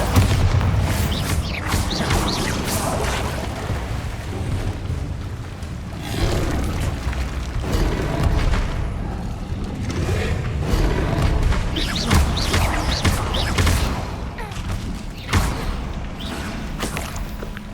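Bombarda spell explosions in the Hogwarts Legacy video game, heard as repeated loud booms and thuds with whooshing bursts over a busy, dense mix of game effects, with no speech.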